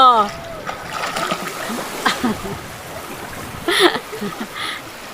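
Water splashes and sloshes as people swim at a beach resort in Morong, Bataan, with sharp splashes and excited voices, including a child's, heard over the surf.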